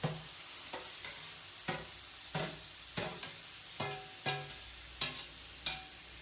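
Cabbage manchurian ingredients fry in a pan, with a constant sizzle broken by about ten sharp, evenly spaced spatula scrapes and knocks, close and fairly loud.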